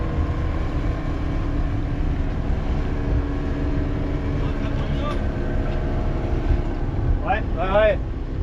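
Motorboat engine droning steadily as the boat pulls out of a marina, a constant low rumble with water noise throughout, and a brief voice or whistle-like sweep near the end.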